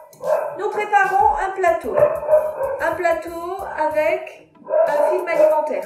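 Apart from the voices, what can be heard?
dog barking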